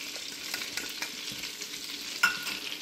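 Garlic frying in melted butter for Loco Moco gravy sizzles in a steady, soft crackle with occasional stirring scrapes and one sharper clink near the end, with no talking.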